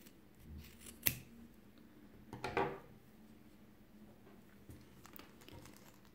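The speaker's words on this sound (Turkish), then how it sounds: "Ben şu düğümün olduğu yerden keseceğim." Scissors snip through macramé cord at a knot with two quick, close crisp cuts, each followed by light rustling. The room around them is otherwise quiet.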